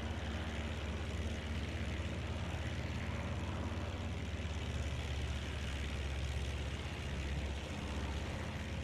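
A Ju 52 trimotor in a flight game roars at full throttle, a steady, dense, unbroken engine drone with no change in pitch or loudness throughout.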